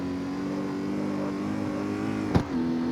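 An Audi RS7 in the CarX Street racing game revs its engine with a steady, humming drone, broken by a brief sharp bump near the end before the engine tone resumes.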